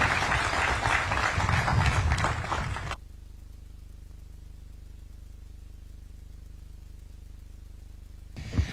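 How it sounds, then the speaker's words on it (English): Crowd applause at a university graduation ceremony in Kisumu, a dense burst of clapping lasting about three seconds before cutting off abruptly to near silence. "Another round of applause for His Excellency, the President of this great nation, Dr. William Samoei Ruto."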